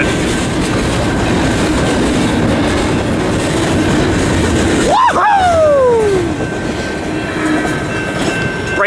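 A westbound double-stack freight train rolls steadily past at Daggett, its wheels rumbling and clattering close by. Midway the horn sounds in a short blast whose pitch drops sharply as the train goes by.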